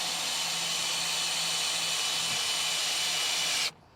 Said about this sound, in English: Because this is a real heavy van, we're going to go straight to our drill mode.